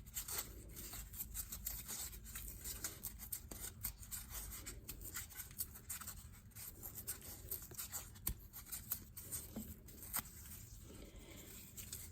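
Pen drawing long strips on paper, a quiet, continuous scratchy rubbing with small irregular strokes over a low steady background hum.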